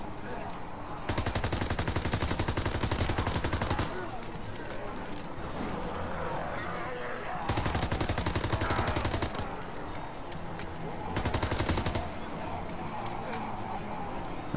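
Rapid automatic gunfire in Call of Duty WW2 Zombies on the Final Reich map, three sustained bursts of a few seconds each, loud over a constant background of game noise and chaos.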